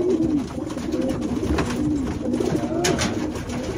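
Racing pigeons coo softly and repeatedly in a low, throaty rhythm, close by, over a steady background hum.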